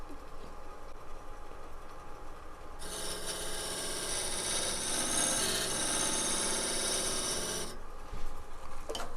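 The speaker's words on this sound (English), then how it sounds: "I'm using this corner of the parting tool to scrape that shoulder" The corner of a parting tool scrapes a shoulder on a wooden piece spinning on a lathe, a steady raspy scraping lasting about five seconds over a quieter background hum.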